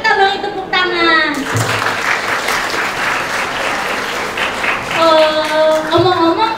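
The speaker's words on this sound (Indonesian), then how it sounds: "Mari kita beri tepuk tangan." Audience applause at an Islamic Ramadan youth event, a loud wash of clapping in the middle, framed by a host speaking at the start and end.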